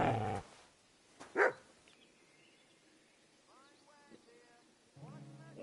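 A dog in a video game lets out a sharp bark followed by a brief growl, set among quieter game ambience with faint bird-like chirps and a few scattered clicks.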